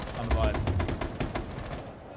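Rapid video-game gunfire crackles in a fast burst of shots, fairly loud and close, tailing off toward the end.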